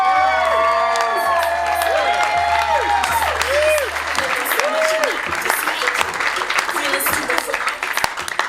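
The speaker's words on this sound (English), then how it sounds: "Clap it up for Miss Anne-Marie Symons." Comedy club audience applauding and cheering for a comedian, dense clapping with whoops and shouts that gradually thins out, and a voice speaking over the start.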